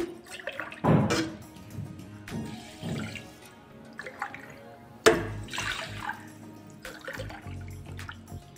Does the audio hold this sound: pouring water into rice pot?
yes